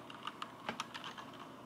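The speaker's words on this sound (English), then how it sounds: "That's the keyboard. I gotta try it out now." Keystrokes on a new wired USB computer keyboard, a short burst of about a dozen close, crisp clicks in uneven rhythm, fairly quiet and with no voices.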